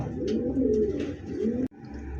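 Fancy pigeons, a feeding pair, coo in low, rolling, throaty calls close by, a few rising and falling phrases that cut off abruptly near the end.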